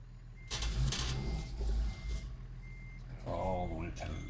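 A truck in American Truck Simulator backs up, its engine rumbling while a reversing alarm beeps at intervals, with air hissing and mechanical clunks over the idle.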